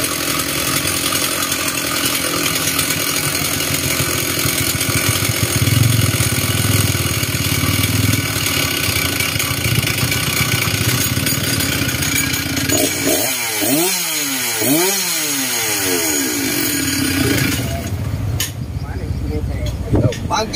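A Stihl MS066 chainsaw engine runs loud and steady in a shop, a sustained buzzing drone that shifts pitch midway with several quick revving swells before settling again.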